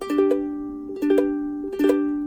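Three strummed guitar chords with some strings accidentally muted, giving a dull, damped edge and percussive clicks, each ringing briefly before the next, played alone at moderate volume.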